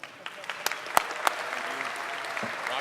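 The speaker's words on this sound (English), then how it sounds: "Let's give Zeke a big round of applause." Applause from a DEF CON conference audience after a talk: a short, moderately quiet patter of clapping with a few sharper claps standing out over a couple of seconds.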